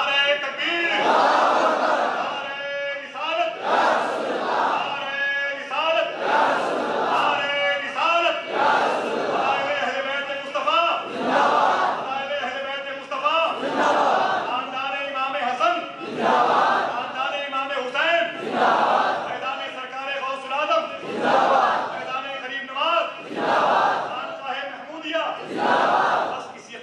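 At an Urs gathering at Luni Sharif, a large crowd chants the Nara-e-Takbeer slogan back in loud, rhythmic bursts. A leading voice calls out between each roar, and the exchange repeats about every two seconds.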